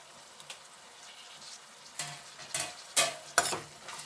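Onion and tomato fry in a pan for a chana dal curry, with a soft background sizzle broken by several sharp scraping stirs toward the end, close up and with no talk.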